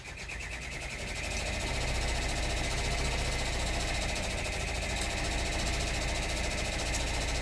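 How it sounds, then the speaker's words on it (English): Sewing machine running steadily while it winds its bobbin during sewing, a loud continuous mechanical whir with a fast, even rattling pulse that ramps up at the start and then holds constant. "this machine loads my bobbin as I'm sewing"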